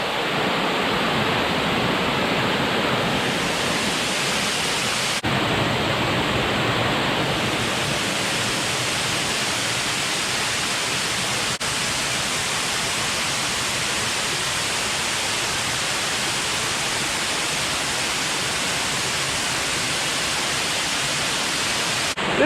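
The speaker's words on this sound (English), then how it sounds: "the way we're going to get the best view of this waterfall" Waterfall on the Ricketts Glen Falls trail, a loud, steady broadband rush of falling water heard up close, continuous and unbroken throughout with no voices.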